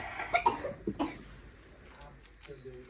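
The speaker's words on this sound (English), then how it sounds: "That's not a nice cough, is it?" A woman's harsh, rough cough, a few close hacking bursts in quick succession followed by quieter breathing and faint background noise; a voice speaks briefly near the end.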